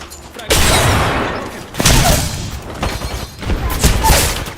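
Frag grenade blasts in the Apex Legends video game, three heavy booming bursts in a few seconds, each loud and close with a rumbling tail.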